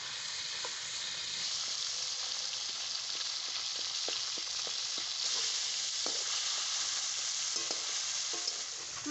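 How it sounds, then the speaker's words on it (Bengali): A fish head frying in oil, steady dense sizzling and crackling with scattered spatula taps as it is broken apart, close and without talk. "মাছের মাথাটাকে আমি এখন ভেঙে দিচ্ছি, তাহলে মাছের মাথাটা ভাজা খুব ভালো হবে।"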